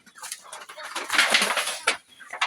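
Chickens cluck and flap nearby, a short burst of busy bird noise with wing flutters and rising calls.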